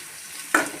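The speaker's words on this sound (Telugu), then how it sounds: "బ్రౌన్ కలర్ వచ్చే వరకు వేయించుకుందాం." Dal and a green chilli sizzle in a pan, a soft background hiss that jumps into a louder burst of crackling as they hit the hot oil, then eases off.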